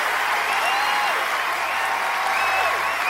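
A burst of crowd applause plays as a sound effect, dense steady clapping from many hands that holds at an even loudness throughout.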